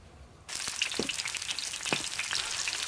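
Oil in a wok bursts into a close, crackling sizzle after a brief quiet moment, then keeps hissing and popping steadily with scattered sharp spits.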